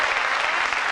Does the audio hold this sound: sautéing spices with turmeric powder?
no